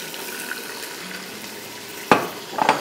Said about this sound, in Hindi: थोड़ा सा पानी डाल रही हूँ बिकॉज ये नीचे चिपक रहा है गोश्त